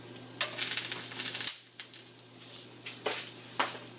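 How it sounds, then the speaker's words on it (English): Whole spices and black peppercorns sauté in hot oil for Achari chicken, giving a steady close sizzle with brief crackling bursts and a short dip in the frying noise midway. "Let it saute for about a minute"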